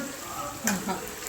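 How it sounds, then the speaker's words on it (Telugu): Soft sizzling of salt-soaked potatoes frying in oil, with a brief stir or scrape partway through; faint voices in the background. "పొటాటోని చూడండి ఇప్పుడు ఇది మెల్లమెల్లగా ఫ్రై అవుతుంది"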